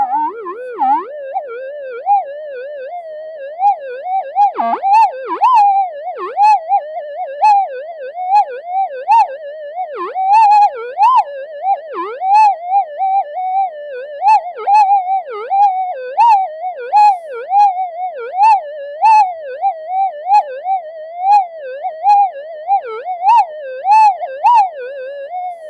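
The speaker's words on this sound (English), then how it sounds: "It's because it's amplified too much EMI coming into the detector." A GPX-5000 metal detector with gain set too high, picking up electromagnetic interference: a loud, continuous warbling tone that wobbles rapidly up and down in pitch, siren-like, for the whole stretch with no speech.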